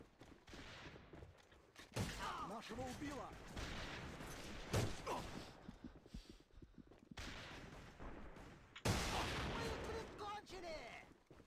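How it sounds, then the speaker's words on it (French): Gunshots from the video game A.V.A Global fired at shop windows, several sharp loud blasts spaced a few seconds apart, each trailing into a ringing, crackling decay, with faint voices in between. "Ah frère, laisse-moi tirer dans les vitrines là."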